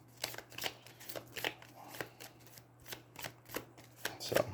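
Cards being shuffled for an Aeons End board game: a run of quick riffling bursts about every half second, crisp and close, with a steady low hum underneath and no talking.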